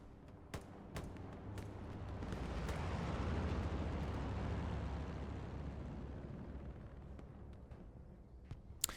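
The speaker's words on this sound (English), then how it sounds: "nice rocket from Ian's there" A rocket blast in the video game Hell Let Loose, rising into a long, broad rumble that swells and fades over several seconds, with scattered distant gunshots cracking throughout.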